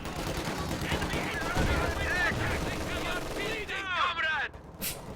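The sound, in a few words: machine gun fire in a real-time strategy video game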